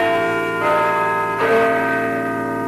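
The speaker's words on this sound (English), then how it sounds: "the chimes of Little John, Nottingham City Clock, signal the fact that Radio Nottingham is officially on the air" Little John, the Nottingham City Clock, rings out a rich, resonant bell chime with long sustained overtones, two strikes about a second apart, loud and alone with no talk.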